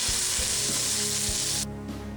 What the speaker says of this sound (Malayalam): ഇതിലേക്ക് ഈ ജിഞ്ചർ ഗാർലിക് പേസ്റ്റ് ഇട്ട് കൊടുക്കാം.